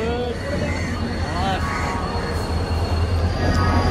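The Tamralipta Express passenger train pulls into a station with a continuous heavy rumble and rising metallic wheel squeals, while people talk nearby over the noise.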